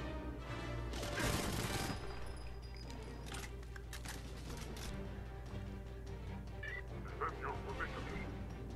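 Gunfire in GoldenEye 007 on the airfield, a burst of rapid shots early on followed by scattered shots over a steady game ambience and music, with voices talking over it.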